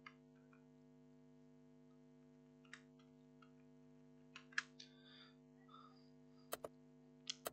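Sparse keyboard typing and clicks on a computer while editing text in Photopea, isolated taps spread out over a steady mains hum, with a couple of sharp louder clicks near the end and no talking.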